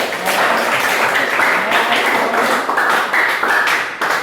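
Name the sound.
applause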